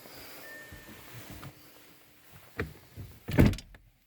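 A VW Touareg TDI car door shuts with a solid thump near the end, after a quieter thud and faint mechanical whir; no one speaks.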